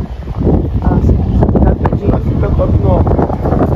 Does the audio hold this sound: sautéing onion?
no